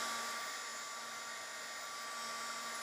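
A handheld heat tool blows steadily to dry a craft card panel, a constant close, even hiss and whir running unbroken from start to finish with no talking.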